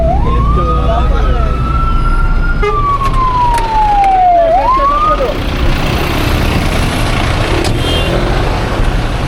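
An ambulance siren wails from behind a car driving on a wet, rain-slicked road, a rising and falling tone that fades after a few seconds, heard over loud road and engine rumble.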